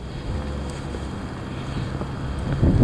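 Heavy wind roars in a steady, low rumbling wash of buffeting and gusting at the microphone, swelling louder toward the end, with no voices heard.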